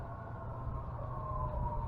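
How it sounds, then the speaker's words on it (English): Emergency vehicle sirens sound from just over a hill, a steady, distant wail that holds on without a break for the whole moment, heard alone outdoors. "That's a lot of sirens,"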